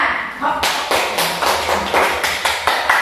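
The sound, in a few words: classroom applause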